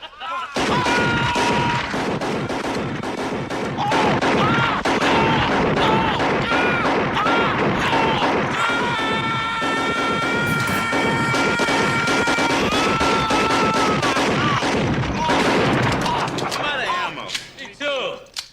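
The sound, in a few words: gunfire in a scene from the film Robocop (1987)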